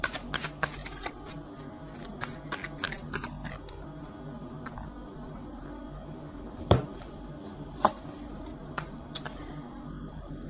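Tarot cards shuffled by hand, a steady run of quick papery riffles and soft flicks close by, with a few sharper slaps of the deck standing out near the end; no talking.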